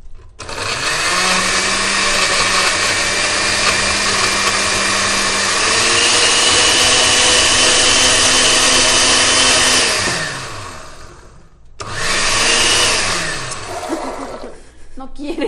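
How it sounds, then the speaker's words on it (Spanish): A countertop blender loudly whirs through enchilada suiza sauce seasoned with salt, its motor pitch shifting midway, then stopping and starting again in a shorter burst before cutting out. "Y ya vamos a empezar a licuar."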